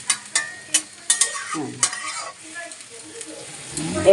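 Puti fish curry broth with ground coriander-leaf paste simmers and sizzles in oil in a pan. A few sharp utensil clicks and scrapes come early, then soft steady bubbling and frying carries on alone.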